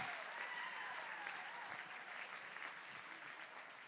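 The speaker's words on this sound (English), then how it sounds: "Let's give him a round of applause." Crowd applause at a charity gala auction after a winning bid, a sustained wash of clapping that stays fairly steady and tapers slightly toward the end, heard alone without talk.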